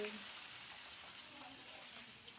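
Ground spice paste for Aceh peanut sauce sizzling and frying in a hot pan, a soft steady crackle held at low volume throughout with no voices over it.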